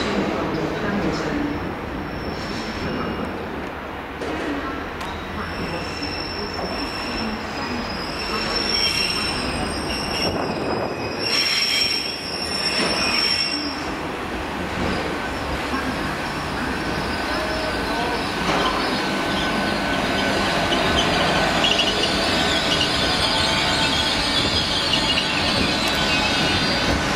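A Great Western Railway train departs Cardiff station, with loud, high metal wheel squeals early on, then a steady rumbling clatter builds as it picks up speed.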